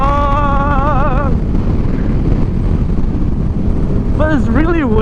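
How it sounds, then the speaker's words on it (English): Strong, steady wind roars across the microphone of a passenger riding pillion on a motorcycle, loud and continuous, with a voice exclaiming over it at the start and end. "But it's really windy though."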